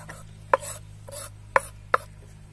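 Knife strokes cut through onion on a board for a plantain flower vada, coming as three or four crisp, separate chops with short rasping slices between them and no voices.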